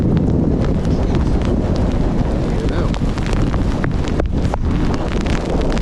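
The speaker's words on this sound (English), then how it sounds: "Man, I can barely stand up with this wind." Strong, gusting coastal wind on the Devon shore roars steadily and loudly across the microphone, buffeting it without letup for the whole stretch.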